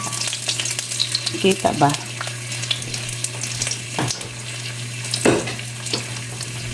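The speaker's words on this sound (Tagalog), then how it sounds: "Ayan guys, tayo nagigisa na ng luya." Ginger sizzles steadily in a hot pan for pork asado, a continuous frying hiss broken by occasional scraping stirs, close up, with a short spoken question partway through.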